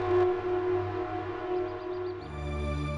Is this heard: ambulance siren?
yes